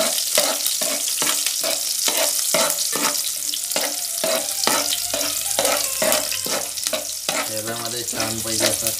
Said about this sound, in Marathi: कांदा लसूण परतून घ्यायचं आहे.